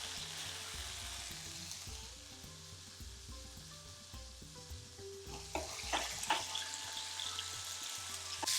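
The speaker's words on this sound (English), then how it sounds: "Using the back of the spoon, roll that round the pan. You want to cook out the rawness of the ginger and the garlic" Ginger and garlic sizzle and fry in a pan while a spoon rolls them around, with soft steady crackle that grows livelier and clatters with stirring toward the end; background music plays quietly underneath.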